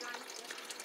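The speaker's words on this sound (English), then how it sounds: "that sound, the waterfall sound is amazing" Water splashing steadily from a small indoor pond waterfall, a continuous close hiss of falling water with no breaks.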